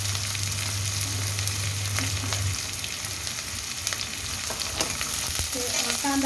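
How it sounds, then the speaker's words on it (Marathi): Onion and green chili fry in hot oil with crackling cumin and mustard seeds. A continuous close sizzle carries scattered pops and spatters, with a low hum in the first few seconds. "जिरे मोहरी तडकायला लागली का कांदा टाकायचा."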